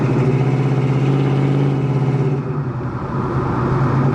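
A 1976 Pontiac Trans Am SE engine on a test drive, a loud close steady rumbling drone with a deep throb that eases briefly before building again, heard alone with no talk.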